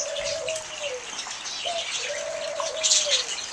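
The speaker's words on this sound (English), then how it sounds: "Some in there, some cockatiels, and there's some, I don't know if you can see very well, but there's some doves back there." Doves cooing and cockatiels calling in an aviary, a few drawn-out coos and chirps repeating in a loose rhythm at moderate distance over faint background noise.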